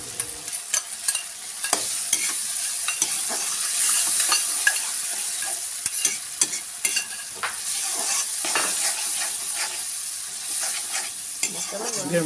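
Ground tomatoes fry in a hot pan with a steady sizzle, broken by repeated sharp scraping clicks of a spoon stirring against the metal, close and loud with no talking.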